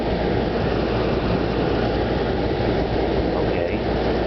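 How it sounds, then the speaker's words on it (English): A 1980 Whirlpool 13,000 BTU window air conditioner with a rotary compressor runs in energy saver mode, giving a steady, loud, broadband mechanical hum and whoosh with no pauses, heard close up. "even though it's a 1980, it's got the more modern rotary compressor"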